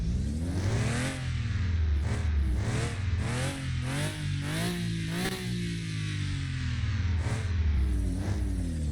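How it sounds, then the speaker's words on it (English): A BMW car engine in racing video game downloadable content revs repeatedly, climbing through the rev range with rising pitch sweeps and quick shifts, loud and close with no talk. "You could actually hear a different characteristic of the engine coming out in different parts of the rev range."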